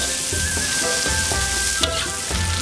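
White chili peppers stir-fried in a wok for a Hunan dish give off a loud, steady sizzle, with the rhythmic scrape of a spatula turning them throughout.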